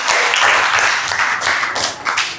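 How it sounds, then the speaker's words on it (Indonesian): Students in a classroom clap for their classmates' reflections, a lively burst of applause that swells and fades over a couple of seconds. "Tepuk tangan dong buat refleksi kawan-kawan."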